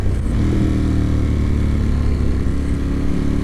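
A motorcycle engine revs hard as it accelerates to overtake a Subaru car on the road, giving a loud, close, continuous drone with no talking.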